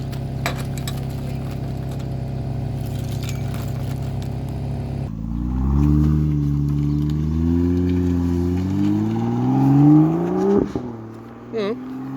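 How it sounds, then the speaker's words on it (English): BMW M2 starting off and pulling away, its engine note rising through a few revs after quieter idle, with clinking and a short voice near the end. "The M2 is going for a little ride to get the rust off the brake discs."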